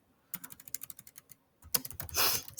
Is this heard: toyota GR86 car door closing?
no